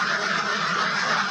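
A flock of about a hundred ducks gives off a steady, dense chorus of quacking and honking, continuous and moderately loud with no break.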